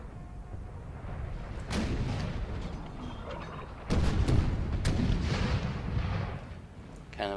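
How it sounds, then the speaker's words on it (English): Cannon fire from a Napoleon Total War battle between massed armies: dull booming volleys roll over a continuous rumbling din, with a few sharper reports standing out, heard alone without talk. "Cannon fire, fighting each other,"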